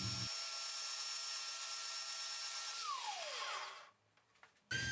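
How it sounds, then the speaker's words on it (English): Wooden toy car wheels spin on a power drill while a sanding block is held against them, giving a steady high whirring rasp that runs strong, then cuts off, followed by brief clatter and the drill starting again. "I then mounted the whole thing on the drill and used a sanding block to sand the wheels"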